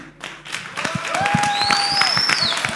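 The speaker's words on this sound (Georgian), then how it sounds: "აპლოდისმენტების ქუხილი დაუთმეთ ამ ბიჭებს!" Studio audience applause swelling in after a brief quiet start and holding at a steady, dense clatter, with sliding whistle-like tones gliding up and down over the clapping.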